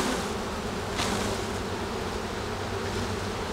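Honeybees buzz steadily and densely at an open hive on the south shore, a close, continuous swarm drone with no talk.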